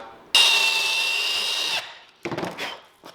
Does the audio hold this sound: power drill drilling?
yes